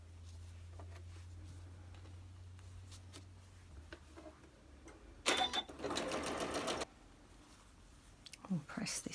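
A sewing machine stitches an Arrows quilt block from the seam side, running in one short, steady burst of about a second and a half in the middle, with quiet talk around it.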